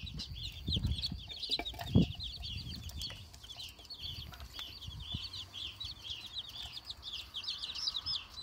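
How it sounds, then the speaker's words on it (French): A grey hen clucks in soft, repeated calls amid fluttering wings and small movements among young poultry visiting adult birds outdoors, moderately close and fairly quiet. "Ça, c'est le plus trouillard celui-là. La poule grise."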